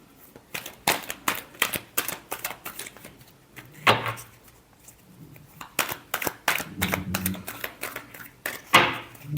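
Tarot cards are shuffled in repeated bursts, crisp riffling flutters and slaps close up, with brief pauses between handfuls and faint background murmur.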